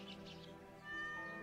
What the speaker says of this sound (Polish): Kot idzie.